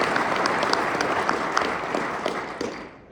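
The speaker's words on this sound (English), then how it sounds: "So round of applause for Jillian" Audience applause at an awards lunch, a broad sustained clatter of many hands clapping from a seated crowd, even and fairly loud before thinning out near the end.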